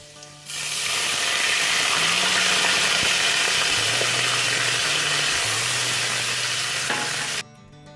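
A little water poured into hot oil with tempered spices while making a sweet-sour-spicy pickle from dried jujube: a sudden loud, steady sizzle and hiss that keeps roaring for about seven seconds, then cuts off abruptly.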